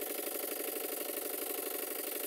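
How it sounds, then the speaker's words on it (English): A model open steam launch's steam engine runs fast and steady, a continuous close mechanical chug with a rattling, buzzing edge and no pauses. "The engine seems to make a very good noise"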